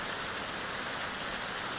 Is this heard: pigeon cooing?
no